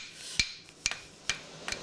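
A blacksmith's hammer strikes metal in a smithy, four sharp, ringing blows spaced about half a second apart, close and clear with no talking.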